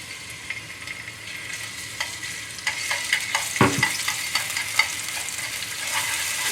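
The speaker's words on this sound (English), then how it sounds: "Right away, we're gonna add in ginger and garlic." Ginger and garlic fry in vegetable oil in a frying pan, giving a soft, crackling sizzle with scattered pops and a few stirring clicks, fairly quiet and close.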